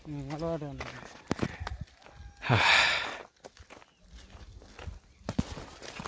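Footsteps of people walking along a rural path toward the remote village of Loddiguda, reached only by a 10 km trek on foot. The steps come in irregular clusters near the listener, with heavy breathing and a voice talking over them.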